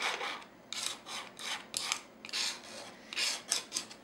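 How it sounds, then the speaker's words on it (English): A knife scrapes across a textured art surface in a run of short, rasping strokes, about a dozen close, dry scrapes in an uneven rhythm with brief pauses between them. "look at what you can do just with that knife. I'm scraping off."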